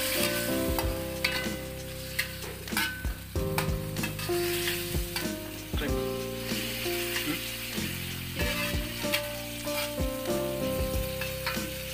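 Tempeh fries in a pan while being stirred, a loud, continuous close sizzle with frequent metallic scrapes and clanks of the utensil against the pan, no talk.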